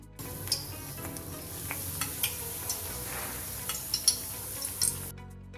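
Bread frying in hot oil for a sweet burger, a continuous close hiss of sizzling with occasional light clinks and stirring taps from a utensil.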